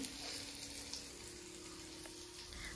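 Fish frying in hot oil in a pan at home, a faint, steady crackling sizzle with a low hum underneath and no voices.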